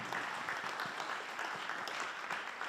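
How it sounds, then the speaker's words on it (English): Applause from a community audience at an evening candidates' meet event, a dense, steady wash of many hands clapping that holds at an even level for the whole stretch, with no voices rising above it. "Let's give her a round of applause."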